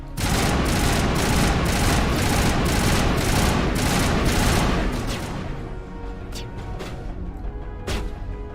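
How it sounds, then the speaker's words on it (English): Grenades detonating in the video game Mass Effect, with dense rapid bursts of explosive gunfire-like blasts that fade to scattered booms and cracks, loud and continuous. "Okay, so I have to detonate the grenades"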